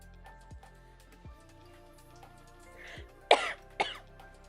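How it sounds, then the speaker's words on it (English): A person coughs and clears their throat a few times, faint and scattered at first, then two sharper, louder coughs close to the mic near the end. "I'm so sorry. I keep coughing."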